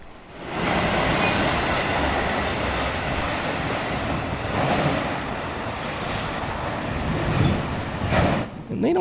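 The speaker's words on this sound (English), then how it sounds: "7-minute long train. And it's hauling ass pretty good." Long freight train passing at speed, a loud continuous rumble and rattle of wagons rolling by up close for the whole stretch, with faint wheel squeal riding on top.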